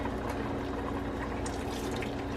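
Fat-free half and half poured into a pot of bubbling Zuppa Toscana soup, a dense continuous hiss of simmering and pouring liquid, close and steady throughout with no talk.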